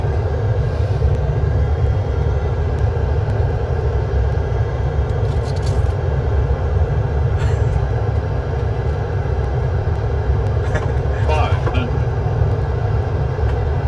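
A jet airliner landing in a Boeing 747-400 flight simulator gives a steady, loud roar of engine and airflow noise throughout, with brief clicks and tones over it and people talking.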